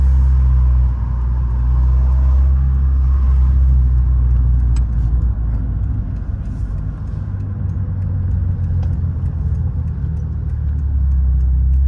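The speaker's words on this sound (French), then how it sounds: "La voiture, si vous voulez, fait pas un bruit excessif, quoi." Renault Clio 16S on the move, a steady loud low engine and road rumble that holds throughout with no voices over it.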